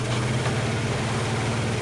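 A wood polisher runs steadily on a burnt-oil wood finish, a continuous low motor hum and whir held at constant speed throughout, close and fairly loud with no talk.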